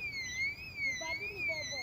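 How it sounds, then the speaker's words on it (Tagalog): An electronic alarm wails continuously in a warbling, rising-and-falling tone at a clam and oyster picking spot on a shore at low tide, loud and steady, with faint sounds from the surroundings underneath. "Nag-alarm yun, oh."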